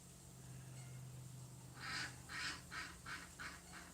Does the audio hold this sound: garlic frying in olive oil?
no